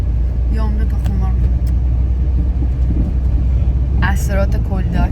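An old car's engine rumbles low and steady close by, a continuous deep drone with people talking over it throughout.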